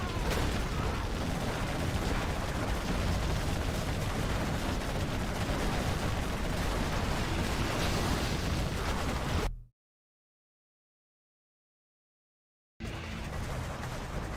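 Flashbang grenades bursting during a Rush match in a competitive video game, heard as a loud, dense run of explosive pops and bangs lasting about nine seconds, then a sudden cut to silence before the noise resumes.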